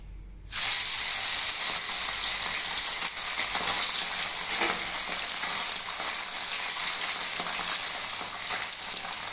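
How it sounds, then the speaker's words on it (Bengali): Small fish coated in salt and turmeric drop into hot mustard oil in a wok, setting off a sudden loud, dense sizzle that continues steadily and close up. "ছোট মাছগুলোতে আগেই নুন হলুদ মেখে রেখেছিলাম, এবার ভেজে নিচ্ছি।"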